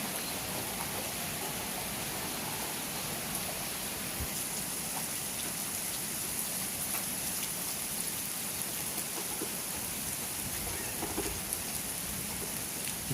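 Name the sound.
heavy hailstorm in Chhochh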